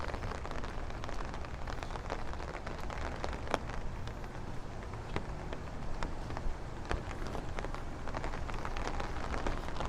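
Steady rain falls on streets and surfaces in Bay Ridge, Brooklyn, during a thunderstorm walk, a dense even patter with scattered sharper drips throughout, no voices.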